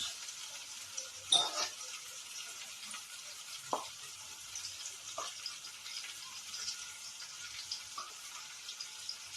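Pointed gourd (potol) frying in a pan with spices gives a steady, quiet sizzle throughout, broken by a few soft scraping clicks of a utensil against the pan; no one speaks.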